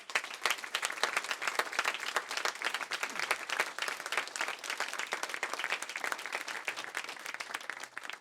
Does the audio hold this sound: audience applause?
yes